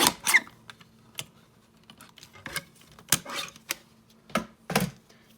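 A small paper trimmer slices through cardstock in a quiet craft room, producing several sharp, brief clicks and scraping strokes spaced irregularly, with no one talking.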